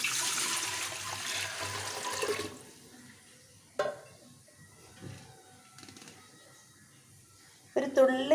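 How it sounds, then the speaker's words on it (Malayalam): Water poured into a steel pot whose leak has been patched with papadam, heard as a sustained rushing pour for about two seconds, then fades to scattered clinks and light handling noises with some talking. "വെള്ളം ഒഴിച്ചു കൊടുക്കുകയാണ്."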